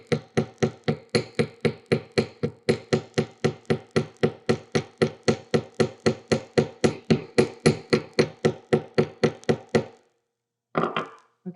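Rapid, even chasing-hammer blows ring on metal being hammered flat, dozens of sharp metallic strikes in a steady rhythm for about ten seconds, close and loud, then stopping.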